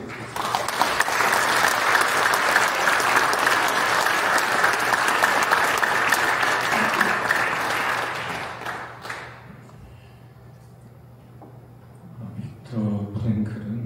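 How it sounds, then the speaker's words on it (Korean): Big round of applause from a congregation welcoming a pastor at a joint Christian worship service at the Korea Military Academy, steady and full for about eight seconds, then fading to quiet before a voice begins speaking. "다 같이 큰 박수로 환영해 주시겠습니다."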